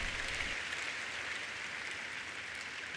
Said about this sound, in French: Acclamez fort le Seigneur encore une fois.